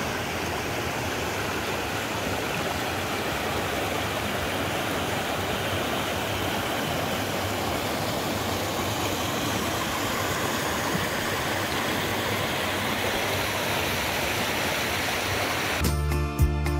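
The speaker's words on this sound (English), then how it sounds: "Look, stream crossing." Stream water rushing at a desert stream crossing near Palm Springs and Joshua Tree, a constant broadband roar of flowing water, close and steady throughout, with a brief clunk of handling noise at the very end.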